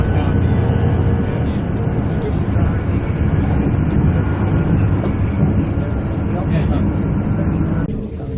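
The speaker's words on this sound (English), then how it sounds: "this train will run in the street for a short distance." A passenger train near Bundaberg, Queensland, on the Brisbane–Longreach trip, rumbles along steadily from inside the carriage, a constant loud drone of wheels and motor that eases slightly at the end.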